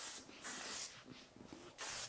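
Hairspray sprayed onto fine, flat-ironed hair in three short, close hissing bursts, each lasting about half a second, separated by brief pauses.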